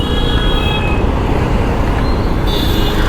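Dense road traffic on Hosur Road in Bangalore gives a steady, loud roar of vehicles nearby, with faint horn toots rising now and then.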